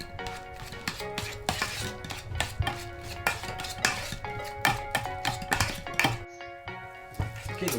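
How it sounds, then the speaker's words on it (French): Galette batter with eggs and emmental is stirred in a bowl, producing rapid clinking and tapping of utensil against the bowl in an uneven rhythm, close and fairly faint. "On mélange le tout."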